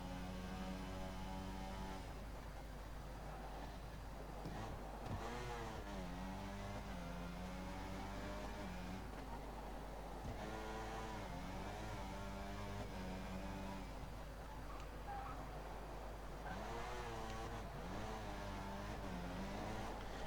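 F1 car engine in F1 2014 racing, a high-pitched buzzing whine that rises and falls through gear changes, steady and close, with a constant low drone beneath and no talk.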